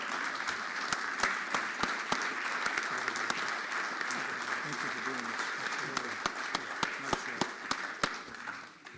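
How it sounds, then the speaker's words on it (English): Crowd at the Watertown inauguration ceremony gives the town council sustained applause, a thick, even roar of clapping with crisp individual claps popping out, tapering near the end amid some voices. "Let's give them a nice, warm round of applause."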